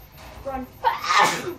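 A single loud, close sneeze bursts out after a brief snatch of a voice, during casual play of a multiplayer game.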